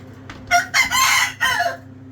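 A rooster crows once nearby, loud and clear, a broken multi-part call lasting about a second with a steady low hum underneath.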